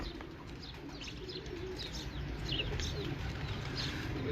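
Pigeons coo faintly against a steady low background hum, with light chirps scattered throughout, and no one talking.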